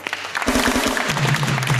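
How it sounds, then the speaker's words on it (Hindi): Studio audience applause on a talk show set, a dense burst of clapping that swells in quickly and holds loud and steady, with a low voice-like hum running underneath. "तालियां"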